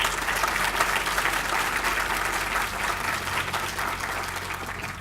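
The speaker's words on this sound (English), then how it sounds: "So let's give a round of applause to those folks who made it happen." Sustained, dense applause from an audience at a Black History Museum groundbreaking ceremony, loud and steady throughout, easing slightly toward the end.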